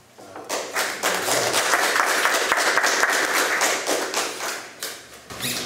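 Sustained applause from an audience at a tribute ceremony for an Argentine poet, a dense crowd of clapping that swells quickly and holds steady for several seconds before tapering off.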